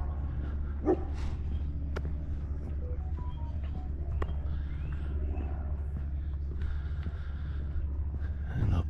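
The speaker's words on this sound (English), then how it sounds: "Little doggy." A small dog at the Caesar Creek State Park campground gives a few faint, brief yips and barks. They sit over a constant low rumble and are heard from some distance.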